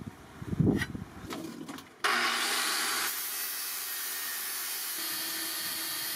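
A sandpaper disc sanding wood for a giant axe prop: scattered rubbing and knocks, then a power tool kicks in with a steady, fairly loud whirring grind that continues to the end.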